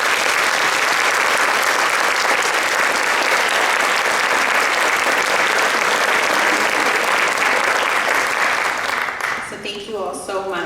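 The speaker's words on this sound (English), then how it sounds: "If you can join me in giving everyone on stage a round of applause" Sustained, loud audience applause for a panel on stage, dense and even for about nine seconds, then tapering off as a voice begins speaking.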